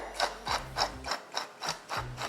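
Black pepper grinder twisted by hand over food in a kitchen, giving a run of quick rhythmic ratcheting grinds, close and fairly quiet.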